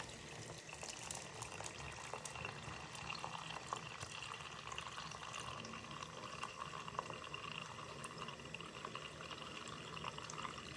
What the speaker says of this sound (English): Let's go ahead and turn on some water. We're going to fill that up.